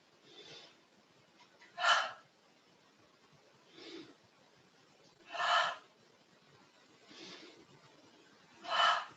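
Breathing during chair yoga shoulder shrugs: a soft breath, then a stronger audible exhale, repeats in a slow, even cycle roughly every two seconds, three louder breaths in all, close and quiet against a near-silent room.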